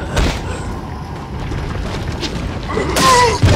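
Shotgun blasts from the pump-action weapon in Resident Evil 4, heavy booming bursts over a dense, noisy game soundscape, with a sharper crack near the end.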